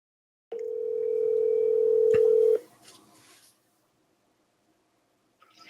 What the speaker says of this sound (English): Oh, here. Yeah, I'm going to call you then.